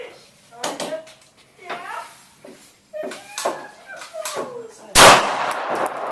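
Gunshots from an Arsenal AK, a CZ 82 pistol and a Glock 19 at an outdoor shooting range: one sharp, loud report near the end, preceded by people talking.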